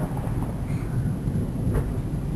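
Low, steady rumble of thunder rolls through a rainstorm, continuous and fairly loud, with a brief brighter swell near the end and no voices.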